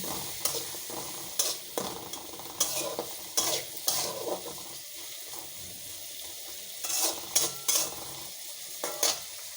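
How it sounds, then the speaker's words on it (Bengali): Dried fish sizzles in hot oil in a pan while being stirred, with a steady frying hiss broken by repeated scraping strokes of a spatula against the pan, close and alone without talk. "শুটকিগুলো একটু তেলে ভালো করে বেজে নেব"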